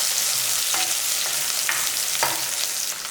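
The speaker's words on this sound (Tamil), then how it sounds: "இந்த ஒரு பச்சை மிளகாயை முழுசாவே போட்டுக்கலாம்" A whole green chilli frying in hot oil for a fish curry, giving a steady bright sizzle with a few soft stirring knocks, close and loud, no voices.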